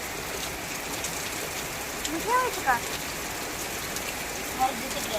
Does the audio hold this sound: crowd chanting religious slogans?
no